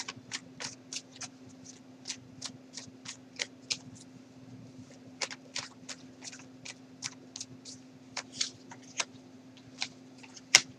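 Tarot cards being shuffled and flicked to draw clarifier cards, a quick run of crisp riffling snaps and taps spread evenly across the stretch, fairly close, with a steady low hum underneath and no talking.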